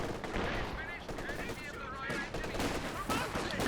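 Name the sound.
Vickers machine gun fire in video game Company of Heroes 2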